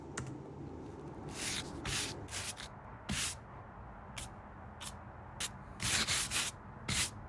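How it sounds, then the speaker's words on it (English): Brushes scrub against the surface of a house in quick, irregular bursts of dry scratchy swishing, some strokes longer and some clipped, close and fairly quiet with no talk. "I took those brush sounds"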